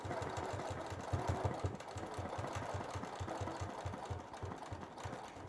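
A quilting sewing machine stitches steadily along a ruler line, a quiet rapid mechanical clatter with an even rhythm that keeps going without a break and no talk over it.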